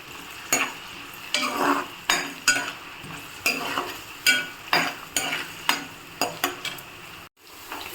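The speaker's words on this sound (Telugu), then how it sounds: "గోల్డెన్ కలర్ వచ్చే వరకు వేయించుకుందాం ఫ్రెండ్స్" Ivy gourd stir-fried in a pan until golden: repeated sharp scrapes of a spatula against the pan over a low sizzle, about a dozen strokes in an uneven rhythm, close and alone.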